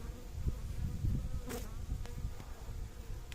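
Honey bees buzzing loudly at an open hive during a varroa mite treatment, a dense continuous close-up drone with individual bees rising and passing near, alongside a few soft handling noises.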